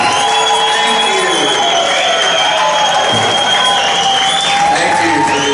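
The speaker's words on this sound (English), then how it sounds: "Thank you for the genuine applause" A loud, dense wall of applause and cheering from a concert crowd at Ram's Head Live in Baltimore, steady throughout with whoops and shouts mixed into the clapping.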